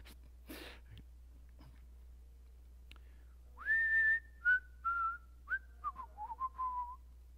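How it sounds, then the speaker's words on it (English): A person whistles a few bars of "Don't Worry, Be Happy," clear and close, with rising and falling notes in a bouncy phrase after a couple of breaths. "I'm going to try to whistle a couple of bars for you."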